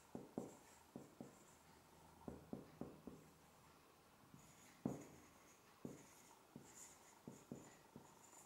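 Chalk or marker writing on a board during a physics lecture, a series of soft sharp taps and short strokes in an irregular rhythm, fairly faint in a quiet room with no talk.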